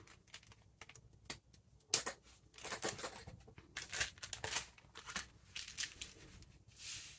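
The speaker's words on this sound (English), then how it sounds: "And then I'll just cut these." Scissors snip through paper leaves for a junk journal in a series of quiet, irregular crisp cuts and rustles, close by, with no talking.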